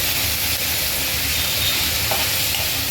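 Onion frying in oil with salt added for a peanut chutney, a loud continuous sizzle with steady hissing and faint stirring, and no voices.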